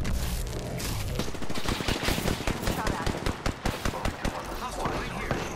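Rapid automatic gunfire from a battle royale video game match with Wraith, Pathfinder and Caustic, loud bursts of shots with dense, rattling rhythm mixed with game effects, under faint voice talk.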